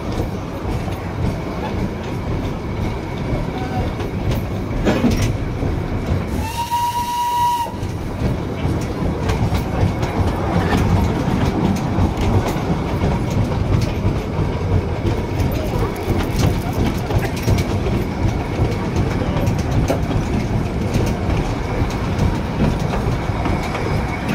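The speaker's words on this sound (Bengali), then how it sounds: "আর এখন ট্রেনটা যাচ্ছে আবার উল্টো দিকে" Darjeeling toy train running on its single narrow-gauge track near the loop, a steady rolling rumble and clatter throughout with a brief whistle-like tone partway through.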